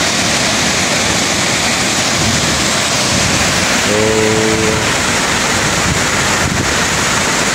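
Tamaraw Falls in Puerto Galera, Oriental Mindoro, a loud, constant roar of rushing water close by, with wind buffeting the microphone and a short low horn-like tone in the middle.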